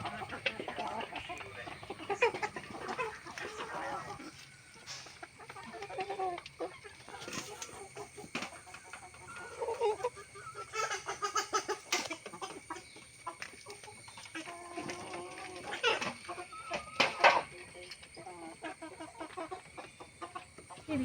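Chickens cluck and chatter on and off, several birds close by in short bursts, with occasional sharper squawks and some background noise.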